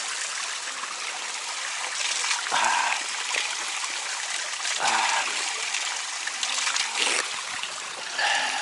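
A mountain brook in the Tatras babbling steadily, broadband rushing water close by with small splashes and trickles rising and falling throughout.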